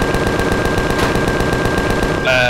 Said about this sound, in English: Banana should be firing as well if it's on.